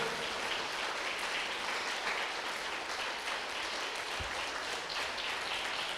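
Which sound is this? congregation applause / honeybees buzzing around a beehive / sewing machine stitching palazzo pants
congregation applause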